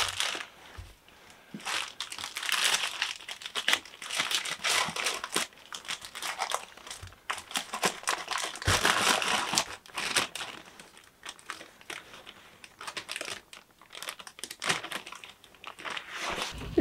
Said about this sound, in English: I'm going to put them in a plastic baggie